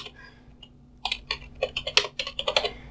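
Typing a terminal command on a computer keyboard: after a quiet second, a quick run of close, crisp key clicks and taps, irregular but busy, with no voices.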